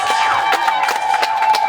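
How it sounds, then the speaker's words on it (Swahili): Wedding guests clap and cheer for the groom at a home celebration, a dense burst of applause with shouts from the crowd. "Naomba nisikie makofi mengi kwa bwana harusi tafadhali."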